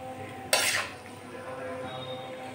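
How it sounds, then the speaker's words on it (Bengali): Bottle gourd curry with mashkolai dal bori is scraped from a pan onto a plate: one short, bright metallic scrape and clatter, then quiet kitchen hum. "আর একটা প্লেটে তুলে নিচ্ছি।"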